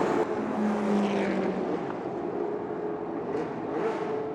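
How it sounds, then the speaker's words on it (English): Classic race cars, a Shelby GT350 and a Ferrari 275, running side by side in a Group 3 race: a continuous loud engine roar with steady droning tones, close and without talk. "Here we go to finish our Group 3 race side by side, and the Shelby's just about going to take it."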